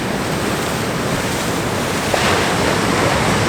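Ocean waves break on a rocky shore on the Isle of Harris, a steady, close, full-bodied roar of surf that swells slightly toward the end, with no voices.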